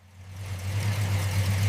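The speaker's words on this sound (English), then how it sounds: "The key is turned, and the engine roars to life, settling into a smooth and steady idle." Car engine from a Toyota Crown being rebuilt as a Ford Mustang muscle car, idling steadily just after starting, a loud low hum that swells slightly and then holds even, with no voices.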